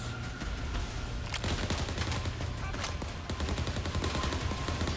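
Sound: gunfire in the video game Overkill's The Walking Dead

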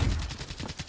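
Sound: gunfire from the player's gun in a video game

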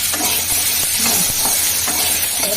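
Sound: hog plums added to sizzling fried spice tempering

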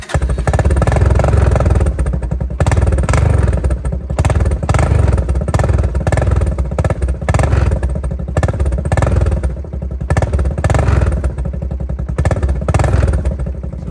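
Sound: old Honda motorcycle engine running after choke cable repair

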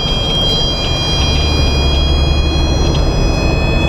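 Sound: audio tone of Kustom Pro 1000 DS police radar gun

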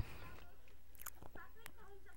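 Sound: chewing Hubba Bubba Dr. Pepper flavor bubble gum

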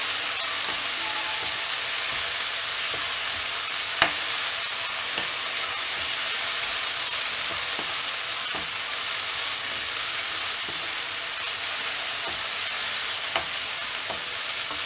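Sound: coriander leaves sautéing in oil

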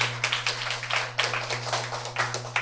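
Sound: audience clapping to welcome a speaker

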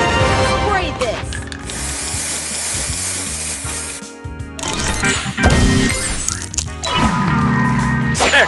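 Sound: spray booster effect in video game Match Masters

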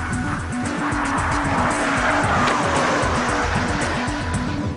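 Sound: race car driving with squealing tires

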